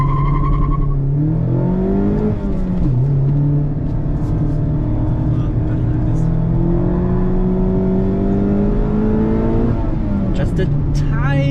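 Mazda MX5 fitted with a Friedrich Motorsport Group A cat-back exhaust, heard from nearby as it accelerates through rising engine revs and gear changes, with a short tire chirp near the end.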